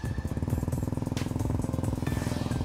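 Suzuki Raider 150 Fi motorcycle engine with a remapped ECU revving steadily around mid RPM, a loud, close, continuous pulsing exhaust drone with rapid regular firing beats and no talk.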